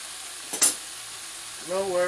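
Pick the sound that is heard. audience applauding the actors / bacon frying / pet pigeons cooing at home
bacon frying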